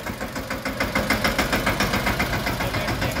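Small 4x4 tractor engine running while hauling a loaded buggy at a sugar mill, a close, steady knocking diesel chug with a rapid even pulse and no talk over it.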